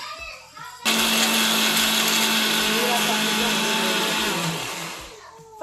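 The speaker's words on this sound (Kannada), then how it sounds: "ಇವಾಗ ಹುರಿದಿದ್ದನ್ನೆಲ್ಲ ಮಿಕ್ಸಿ ಮಾಡ್ಕೋಬೇಕು." A mixer grinder pulverises dry-roasted poppy seeds for payasa. It starts abruptly with a loud, steady whirring roar that runs for about five seconds, then eases slightly toward the end.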